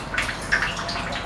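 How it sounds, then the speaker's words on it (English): Water trickling and dripping into the tank of a B Future Mobile Inferno 2545 LP pump unit, a faint, close patter of small splashes over a low steady hum. "you can see a small amount of water coming in into the tank"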